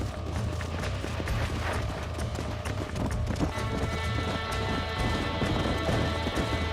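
A horse gallops in Red Dead Redemption, with a dense, continuous run of hoofbeats under busy game noise and a faint musical drone, steady and fairly loud throughout.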